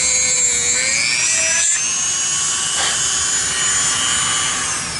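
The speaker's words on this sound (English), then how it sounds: "Drill a little hole right there." A small drill bores a hole into a hand-whittled wooden bird, giving a steady, close whine that runs without a break for about five seconds, with no voices.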